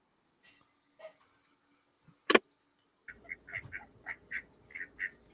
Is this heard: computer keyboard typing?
no